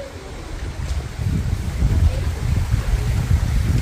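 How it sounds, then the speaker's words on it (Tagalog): Strong, cold wind outdoors among flowers on a forest outing rumbles and buffets the microphone in a continuous low roar that swells slightly over a few seconds. "Malakas ang hangin."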